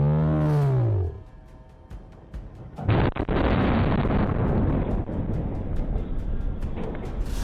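A tank gun fires one deep, booming blast close by, followed by a long roar of rushing wind and rumbling debris that buffets the microphone; a voice is heard just before the shot.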